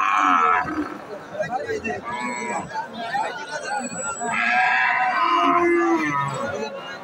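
Cattle, including cows, lowing in a busy livestock market ahead of Eid al-Adha, in rain, with crowd chatter and voices throughout and a few louder moos rising above the din.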